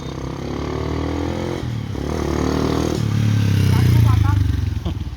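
A repaired TMX 125 motorcycle engine idles and revs steadily up close, its low droning pulse swelling louder toward the end, with some clattering mechanical noise alongside.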